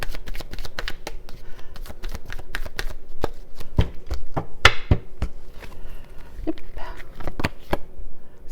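Tarot cards shuffled by hand in a crisp, irregular run of riffling snaps and flicks, close and fairly quiet, with occasional soft handling noises.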